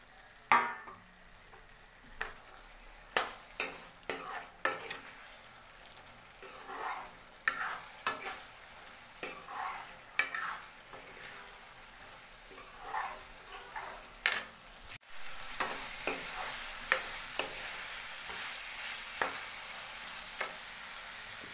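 Peas and spices frying in a pan for a potato, tomato and pea paneer curry: repeated scraping stir strokes over a soft sizzle, turning into a louder, steady frying hiss in the second half.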